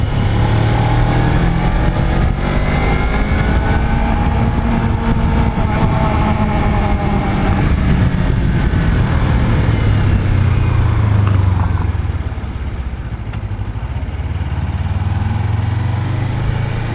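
A Suzuki GSX250R motorcycle rides along, its engine humming steadily and loud under heavy wind rush, the pitch sliding down and back up as the revs change.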